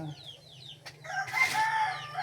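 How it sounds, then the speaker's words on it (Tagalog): Chickens crow and cluck loudly and close by right after feeding, a rooster's call rising over the busy flock. "tapos na tayo nagpakain sa mga manok"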